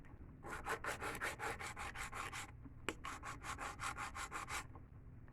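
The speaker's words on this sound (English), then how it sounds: "And you just keep on filing it." An acrylic nail is filed into shape with quick, even rasping strokes, close and clear, in two runs of about a dozen strokes each separated by a short break.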